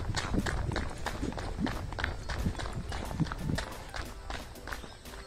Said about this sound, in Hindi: यहाँ पर मैं अपने पैर से आवाज़ कर रहा हूँ, आप उसको सुन सकते हैं।